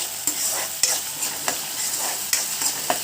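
Onions frying in a hot pan are stirred with a spatula, giving a continuous loud sizzle punctuated by regular scraping strokes about every half second, with no talking.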